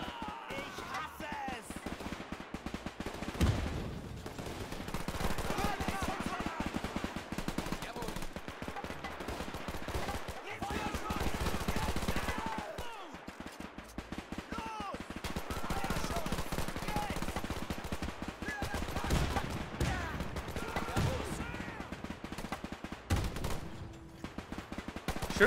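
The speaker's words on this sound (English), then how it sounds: "How are they shooting at me through the smoke?" Gunfire in the video game Men of War 2 rattles in rapid automatic bursts and scattered single shots, near and loud and nearly continuous, with voices talking intermittently over the combat.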